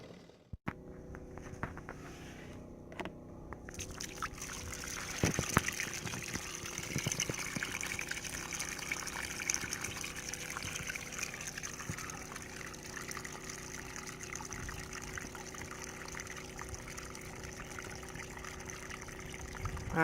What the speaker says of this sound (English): That's the drain cycle.